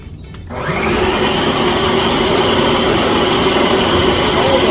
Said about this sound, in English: You're gonna blend this for a minute or until it's smooth.